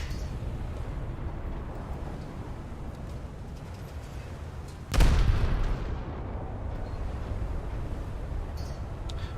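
Ship gunfire in a naval video game with British cruisers: a single heavy boom fires midway and decays over a second, set against a steady rumbling background.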